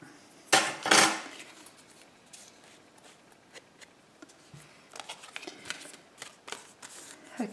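Scissors snip paper hanging over the edge of a journal page, a couple of loud close cuts near the start followed by lighter scattered snips and paper handling.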